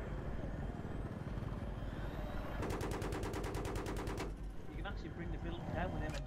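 Rapid automatic gunfire in Battlefield 3 pours into a building, a dense stream of shots from about 2.5 to 4.3 seconds over a constant low rumble of battle noise, with scattered shots and game sounds after.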